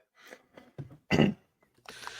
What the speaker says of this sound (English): we're both coughing tonight